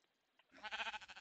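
A sheep bleating in a video game: one short, wavering baa that quivers for about a second, close and clear, after a faint brief sound just before.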